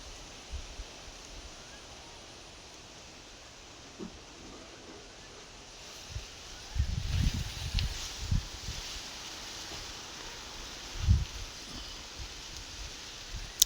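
Wind blows through coconut trees under a cloudy sky with a soft steady hiss, picking up in gusty rustling surges and occasional buffets against the microphone.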